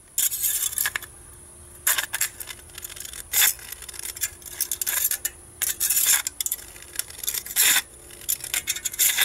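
Blade scraping and cutting into the thin aluminum bottom of a Coke can for a homemade alcohol stove, a series of short, bright rasping strokes, close and fairly loud, separated by quiet pauses.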